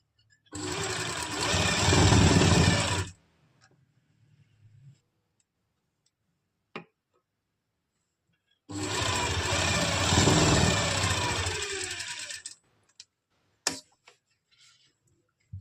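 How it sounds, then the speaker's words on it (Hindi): A sewing machine stitches the crotch of an Afghani salwar in two loud, continuous runs of rapid whirring, a few seconds each, separated by quiet handling clicks and pauses. "उसके भी पूरे क्रोच में इस तरह से यहाँ हम सिलाई लगा लेंगे"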